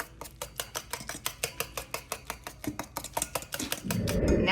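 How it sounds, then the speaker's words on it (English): Rapid rhythmic whisking of wet banana bread batter in a bowl, about five crisp strokes per second, close and steady, the wire tapping the bowl before a brief rustle at the end. "Whisk that into there."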